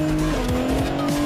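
A Ferrari F40 racing in the video game Asphalt 9 changes gear. The engine note falls and climbs again with each shift, and tyres squeal, all loud and close over a short burst.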